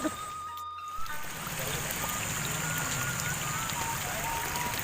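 Rain falls steadily outdoors, a soft even patter and hiss that fills the clip after a brief quiet start.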